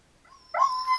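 A wolf killed in the video game Rust lets out a short, high, dog-like whimper, a thin whine rising into a louder yelp up close.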